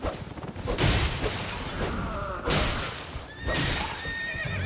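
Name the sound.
horse neighing in the video game Elden Ring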